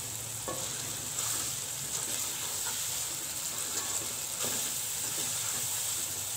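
Okra masala with tomato frying in a pan while being stirred, a continuous close hiss of oil broken by occasional spoon scrapes and taps, steady and moderately quiet.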